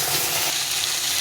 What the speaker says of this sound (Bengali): এখন এই মশলাটা দিয়ে ভালো করে কষতে হবে